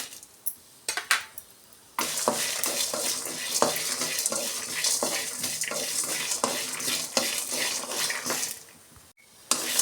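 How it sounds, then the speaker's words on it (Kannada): Green chillies fry in a pan over a low flame while raw banana palya is being made: a steady sizzle runs throughout, broken by close metallic scrapes and clinks of stirring, with no talk. "ಕಡಿಮೆ ಉರಿ ಇಟ್ಕೊಂಡು ಚೆನ್ನಾಗಿ ಫ್ರೈ ಮಾಡ್ಕೊಬೇಕು ಈಗ ಮೆಣಸಿನ್ಕಾಯಿನೂ ಸೇರಿಸ್ಕೊಳ್ಳೋಣ"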